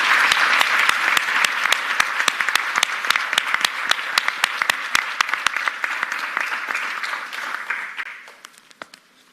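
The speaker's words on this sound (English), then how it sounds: "I think it's about time you gave them a very rousing round of applause" Audience applause for a conference panel at a competition-law event, steady dense clapping that fills the room for several seconds, then tapers off into scattered claps near the end.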